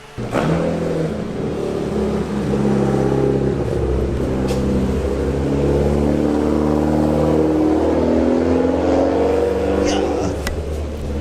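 A Honda CBR600RR motorcycle engine idles while warming up, a loud, steady close drone with slight shifts in pitch, and people talk over it.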